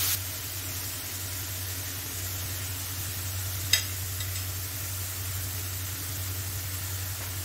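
Cabbage roll filling seasoned with salt and spices is stirred in a pan, giving a steady, soft hiss of sizzling and scraping at moderate level, with a single brief clink midway and no talking.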